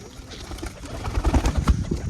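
Pigeons coo in low, throaty murmurs close by, a soft rolling burble that swells toward the end, with a faint background hiss and no speech.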